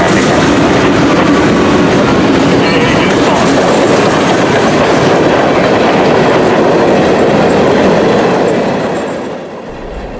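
A CSX local freight train rolls past close by, loud and steady with rhythmic wheel clatter and rumble throughout, fading slightly at the end.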